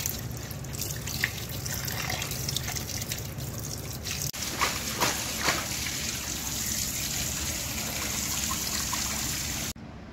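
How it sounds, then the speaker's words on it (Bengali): Tap water runs steadily while raw chicken is washed at a kitchen sink, a continuous close trickle and splash with small clatters, ending abruptly. "চিকেনটা আমি ভালো করে ধুয়ে নিয়েছি"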